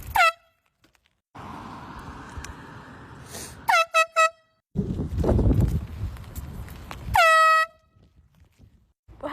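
Loud air horn blasts sound repeatedly, several sharp short honks plus longer sustained blares, separated by gaps of near silence and rumbling outdoor noise.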